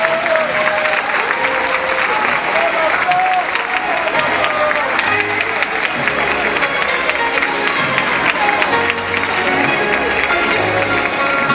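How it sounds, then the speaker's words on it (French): Loud, sustained audience applause with cheering for beauty pageant contestants at the Miss Petite de France 2012 election, a dense crowd roar running steadily throughout, with music and a voice faintly mixed beneath. "applaudissements pour toutes nos candidats"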